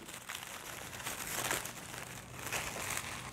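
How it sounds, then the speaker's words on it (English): Packaging crinkles and rustles softly and steadily up close as a bath bomb is unwrapped, with no talking. "So I'm gonna just unwrap it a little bit."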